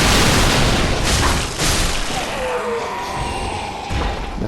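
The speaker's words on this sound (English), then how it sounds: "Now he threw an exploding fire urn at me, so that'll do damage" An exploding fire urn hurled in Dark Souls III bursts with a loud, muffled boom and thud at the start, followed by rumbling combat noise and a few scattered impacts.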